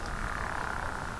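Frog or toad of unknown species croaking near a lake in French Creek State Park, Pennsylvania: a steady, continuous rasping trill that holds for the whole stretch at moderate distance, with no talk over it.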